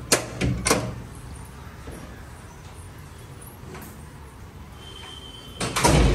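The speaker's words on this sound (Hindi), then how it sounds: "उसके लिए मैं दरवाज़ा यहाँ पे खोल रही हूँ" A household door is opened in a home kitchen, giving a couple of short sliding, knocking bursts at the start and again at the end around quiet room tone.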